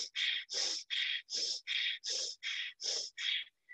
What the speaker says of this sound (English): Fire breath as we go.